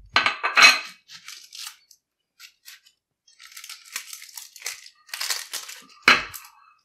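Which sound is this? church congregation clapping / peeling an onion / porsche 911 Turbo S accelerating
peeling an onion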